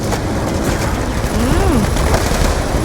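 Dense, continuous gunfire from the video game Call of Duty Black Ops 2, fought in a flooded area alongside a tank fitted with a machine gun, with a swooping tone rising and falling midway through the steady barrage.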